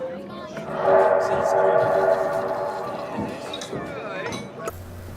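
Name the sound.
train bell from Assassin's Creed video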